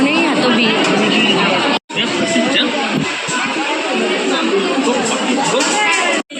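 Dense crowd chatter fills the air at Trimbakeshwar temple in Nashik: a loud, continuous hubbub of many overlapping voices close by, briefly cutting out twice.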